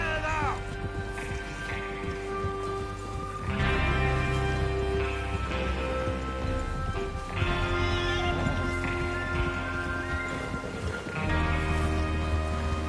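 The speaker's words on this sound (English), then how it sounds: "Get your horses ready." Horses trotting in the video game Red Dead Redemption 2 as a gang rides out to rob a train. Steady clip-clop hoofbeats and occasional whinnies play under a continuous tonal music score.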